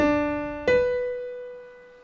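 A single piano note is followed by one a major sixth higher, both sustained and gently decaying in quiet surroundings.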